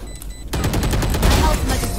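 Rapid burst of gunfire in the Valorant video game, loud and dense after a brief quiet start, with repeated sharp shots blending into a sustained fusillade.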